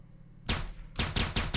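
Gunshots in Hotline Miami: a loud, sharp blast followed by a rapid burst of three more close, punchy shots, with no voices over them.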